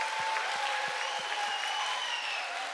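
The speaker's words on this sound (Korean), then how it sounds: "한번 우리 한번 박수 한번 해 주실까요?" Applause from a church congregation at a Christmas Eve festival service, welcoming a young-adult group's musical dance performance; a steady wash of clapping fills the clip evenly, with faint low thumps under it and no talking.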